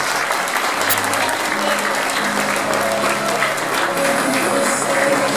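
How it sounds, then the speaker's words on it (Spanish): Sustained applause from a large audience welcoming a graduating class at a university graduation ceremony, steady and dense for the whole stretch, with faint voices murmuring underneath. "Reiteramos el aplauso de bienvenida a la promoción Natus Vincere."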